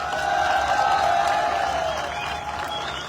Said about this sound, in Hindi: आप लोगों को तालियां बजानी चाहिए